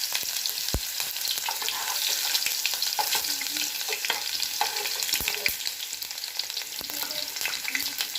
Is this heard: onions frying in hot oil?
yes